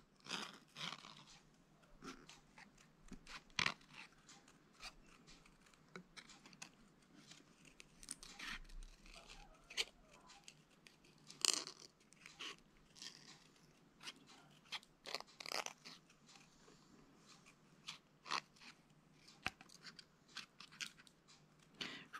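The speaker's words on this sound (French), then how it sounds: "je prends ma photo et je viens découper les bords pour n'avoir que la petite fille" Scissors snipping around the edges of a printed photo while making vintage craft labels, a long run of faint close crisp cuts and paper rustles, no talk.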